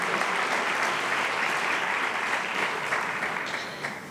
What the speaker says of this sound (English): Can you give us a round of applause, please, for our Air Force Blue Eagles Honor Guard and our Marine Division Brass Band